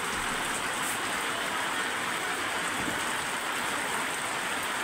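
Floodwater rising through a village rushes past in a steady, dense broadband wash, loud and close throughout with no pauses and no voices.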